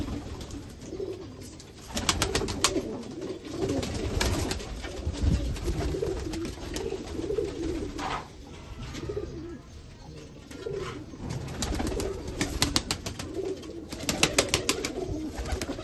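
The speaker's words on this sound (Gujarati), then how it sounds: "ઓરિજિનલ પાકિસ્તાની કબૂતર બધા." Golden Pakistani pigeons cooing in a breeder's loft setup, repeated soft throaty coos overlapping at close range over a steady background, with occasional sharper bursts and fluttery noises.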